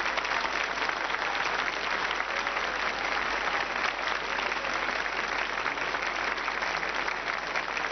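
Sustained TV studio audience applause on a 1983 French variety show, a dense, steady wash of many hands clapping without pause, fairly loud and even throughout, with no voices on top.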